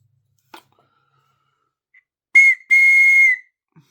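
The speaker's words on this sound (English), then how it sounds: "that turned out to be a pretty cool looking little whistle" A small handmade black palm whistle blown twice in short, steady high-pitched toots, the second held longer, preceded by a couple of faint taps.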